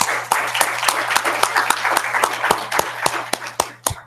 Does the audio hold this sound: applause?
yes